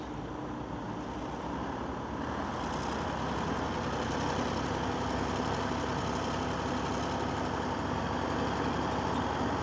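A tractor engine straining to pull stuck farm machinery out of a bog with a tow cable, a steady loud low rumble that rises slightly in intensity after the first couple of seconds, with no talk.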